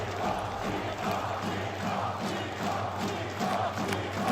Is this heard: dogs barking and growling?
no